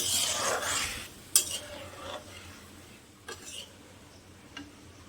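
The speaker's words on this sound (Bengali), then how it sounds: "গরম পানি দিয়ে একটু নাড়াচাড়া করে" Egg curry masala being stirred in a pan after hot water is added, a steady soft scraping with a few sharp clinks of a spoon against the pan, with faint frying sizzle underneath.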